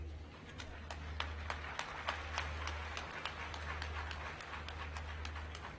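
Scattered clapping from a ceremony crowd at a scholarship event, faint and distant, with individual claps pattering over a steady low hum.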